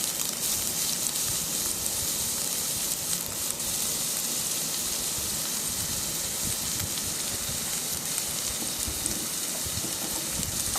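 Finely chopped onion sizzles steadily in hot ginger-garlic paste, a dense continuous crackle and hiss of frying that carries on unchanged for the whole stretch, without any speech.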